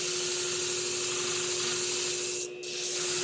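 A long convex grooming shear is sharpened against a spinning wheel to raise a burr, giving a steady, close grinding rub with a constant tonal hum. The rub briefly breaks off near the end before resuming.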